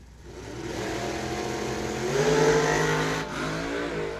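A supercharged Mopar drag racing engine with nitrous roars loudly at a dragway, the note building to a peak midway and then holding steady, close and sustained.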